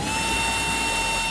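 A steady, tonal mechanical whine runs continuously, consistent with screws being driven out of the back panel of a Nivona 1030 espresso machine during a repair, close and unbroken, with no talking.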